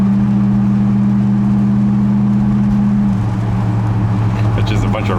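A 1967 Plymouth Satellite engine idles steadily after a cold start, a loud, close, constant drone whose pitch drops slightly partway through.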